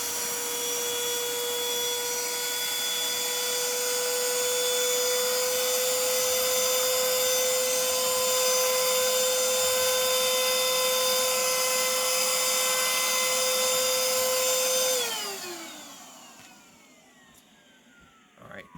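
Old-model Ridgid 18V compact cordless vacuum runs loud and steady for about fifteen seconds while sucking up sheetrock dust, its motor whine holding constant before winding down and falling away near the end.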